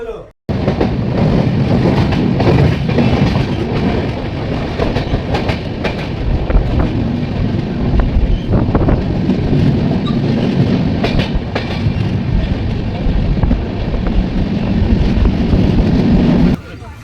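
Sealdah-Puri Duronto Express running in sleeper class, a steady loud rumble of wheels on rails with recurring clickety-clack beats throughout, heard from inside the carriage.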